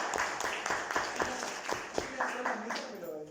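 A group at an evangelism workshop claps for group number four, a run of sharp hand claps with talk mixed in.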